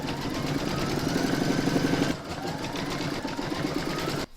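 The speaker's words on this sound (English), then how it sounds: "You can now put that back into your machine and stitch round number 3 to secure it." An embroidery machine stitches an in-the-hoop fabric coaster, its steady rapid whirring and tapping running close and continuous, shifting pitch midway as the stitch path changes, with no voices.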